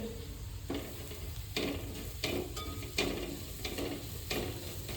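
Onions sautéing in a pan for a Kerala dish of chicken with kanthari chilli and tapioca give a steady sizzle, with stirring scrapes landing roughly every second or so, close and moderately loud, with no talk.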